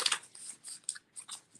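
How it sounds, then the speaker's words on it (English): Crystal-themed cards are shuffled close up, producing quick papery riffles and soft slaps in short, irregular bursts. "I'm going to shuffle them."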